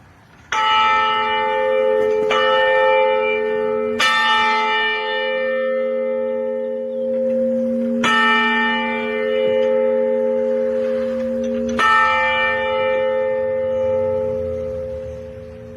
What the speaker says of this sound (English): it looks like we found an ancient bell.